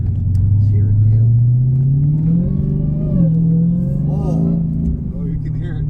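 Supercharged 6.2L Hemi V8 of a 2015 Dodge Hellcat fitted with a K&N cold air intake, droning loud and close with a rising whine as it accelerates and shifts through gears during a drive, with voices over it.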